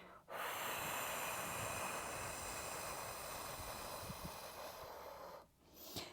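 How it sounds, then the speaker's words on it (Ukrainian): Forceful exhaling and breathy effort during a Pilates abdominal workout: one long, loud, steady rush of breath lasting several seconds, close to the mic, easing off briefly near the end. "не соромтеся активно видихати"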